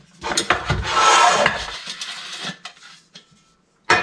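Trangia cooking set pots and bowls handled, with clattering, rubbing metal knocks dense for the first second and a half, then sparser light clinks and a final sharp knock, close up with no talk.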